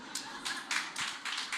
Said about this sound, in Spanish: Pero ese aplauso medio escuálido